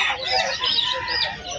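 Bantam chickens, hens and a rooster, clucking and calling close by in a continuous, busy flock chatter that lasts the whole short stretch.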